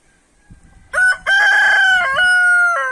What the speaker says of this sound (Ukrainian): От бачите, а там той півник бродить, ходить.